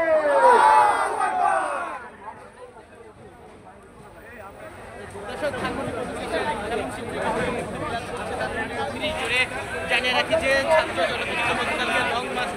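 A large crowd at an Eid gathering roars a loud chant in answer to a takbir call, swelling into sustained massed shouting and babble that continues with rising and falling intensity.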